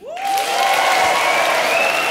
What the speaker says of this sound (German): Wie würde man für eine 10 klatschen?